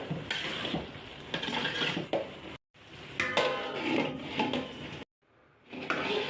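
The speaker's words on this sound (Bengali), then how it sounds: "এবার আমি একটা থাল দিয়ে ঢেকে রাখবো।" Metal clatter and scraping at a pot of bhuna khichuri as it is covered with a plate, a few sharp knocks and clinks close by, separated by short silent gaps.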